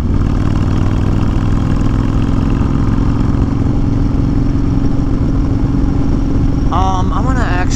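A 2020 Honda Fury cruiser motorcycle fitted with a Cobra fi2000 tuner pulls away in first gear, its engine a loud, steady low rumble close by, with a voice speaking over it near the end.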